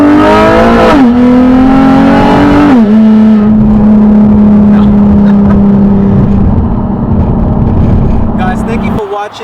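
A 2009 Nissan 370Z engine is revved hard under full acceleration, loud and close from inside the car, with a rising roar, brief dips at gear changes, and a sustained high drone.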